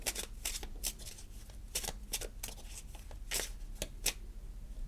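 Tarot cards are shuffled up close in a quiet room. The riffles and snaps come in quick, uneven bursts of crisp papery flutter.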